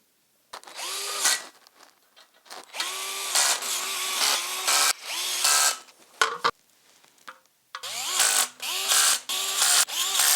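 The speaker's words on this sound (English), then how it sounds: "Got my screwdriver on a really low setting so that I can do the final tightening by hand" An electric screwdriver set to a low setting drives screws into the feet of an electric standing desk during assembly, giving several whirring bursts separated by short pauses, close and loud, with no speech.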